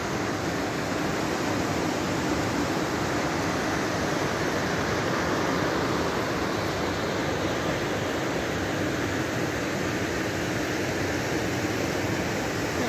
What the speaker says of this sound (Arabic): مكان كثير جميل ومن صوت المي يعني ما عم نحكي مع بعضنا